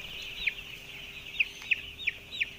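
Five-day-old broiler chicks in a brooding house give five short, high peeps spaced irregularly over a soft, steady background hum, moderately near and otherwise quiet.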